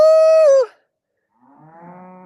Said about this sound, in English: The cows typically move right by the gate right here.